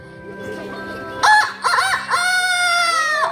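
At a storytelling event marking the Prophet Muhammad's birthday, a voice imitates a rooster crowing, giving a few loud, drawn-out calls that rise and fall in pitch.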